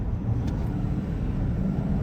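Steady low engine and road rumble from a 2025 Ford F-550 truck cruising at highway speed, continuous and fairly loud with no voices.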